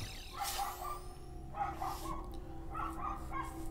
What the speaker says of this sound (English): Dog barking moment.